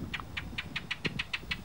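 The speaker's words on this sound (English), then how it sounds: "you can hear the mourning doves, all of the birds chirping." Faint, evenly spaced chirps repeat about eight times in quick succession, a small bird calling softly in a quiet outdoor setting.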